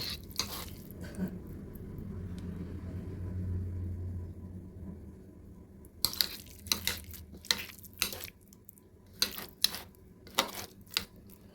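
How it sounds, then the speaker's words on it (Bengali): Egg tomato bharta being mixed with fried onion and green chilies: after a low rumble, a series of soft, wet squishing and clinking strokes from close by, repeated at an irregular pace. "দিয়ে দেব কাঁচা লঙ্কাগুলো আর দিয়ে দিচ্ছি পেঁয়াজ ভাজিটা এবার সব কিছু মেখে নেব"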